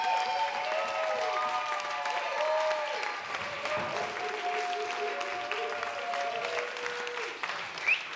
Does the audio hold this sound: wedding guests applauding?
yes